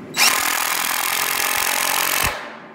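A power drill drives a regular screw into wood while framing interior walls of an ICF house, giving one loud, steady whirring burst of about two seconds that starts and stops abruptly, with no talk over it.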